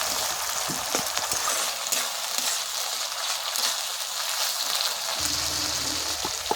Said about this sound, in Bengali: এবার আদা রসুন দিয়ে ভালো করে একটু ভাজা ভাজা করে নেব